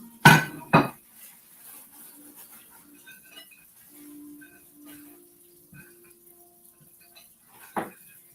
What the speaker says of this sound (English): I'm chopping these real quick.